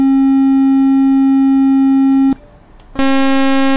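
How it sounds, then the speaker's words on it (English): A steady, mellow triangle wave tone from the VCV Rack software synthesizer, with soft overtones, cuts out briefly, then returns at the same pitch with a brighter, buzzier edge. "and you've got your triangle wave,"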